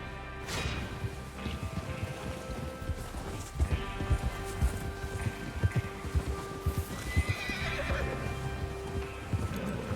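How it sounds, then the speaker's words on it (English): Horses gallop with a busy clatter of hooves while loud whinnies ring out over the top, all set against a dense layer of background noise, in the video game Red Dead Redemption 2. "Get your horses ready."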